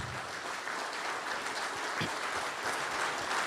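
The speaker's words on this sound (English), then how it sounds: "Please give a round of applause to wherever she is." An audience at a motivational speech about a thyroid lab applauds, producing a steady, moderately faint wash of clapping that continues throughout.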